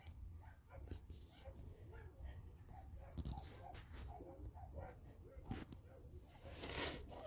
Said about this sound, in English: Damn, these dogs are going nuts.